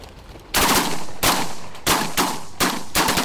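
Shotguns fired while duck hunting, five loud close blasts in quick succession with short ringing decays, no voices between shots.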